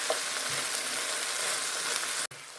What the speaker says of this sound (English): Fry the potatoes for 2-3 minutes, just until they get a little color